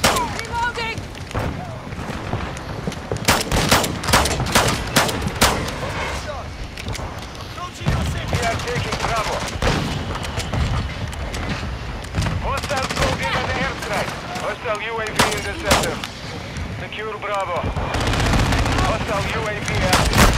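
Rapid shotgun blasts and bursts of automatic gunfire crack through a busy video game firefight, with sharp repeated shots over twenty seconds mixed with in-game radio callouts and a player talking.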